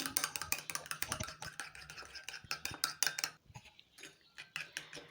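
Egg with red pepper and salt is beaten in a bowl with quick, rhythmic clicking strokes of a utensil, a short pause near the end, soft and close.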